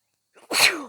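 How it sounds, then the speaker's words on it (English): A single close, loud sneeze from a person with allergies, opening with a quick sharp intake of breath and then bursting out in one forceful blast that trails off. "Excuse me, I got sneeze."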